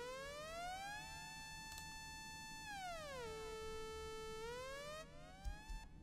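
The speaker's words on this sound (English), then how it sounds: "I found this kind of siren synth." A lazy, gliding siren-style synth from Omnisphere sustains a rich harmonic tone that slides down slowly, holds low, then glides back up, steady and clean over a faint low hum, with no voices.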